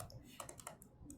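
Quick keystrokes on a computer keyboard while a layer is renamed during 2D character rigging, a short uneven burst of close, light clicks over quiet room tone.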